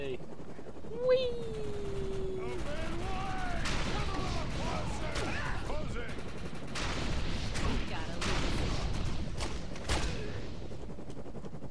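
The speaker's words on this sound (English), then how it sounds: "we got a heavy machine gunner over here" Heavy machine gun fire in the co-op shooter game Defiance, coming as bursts of rapid shots and clattering game noise, with several people talking over much of it.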